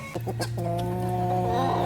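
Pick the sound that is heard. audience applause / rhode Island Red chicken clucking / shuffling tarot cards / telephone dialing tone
rhode Island Red chicken clucking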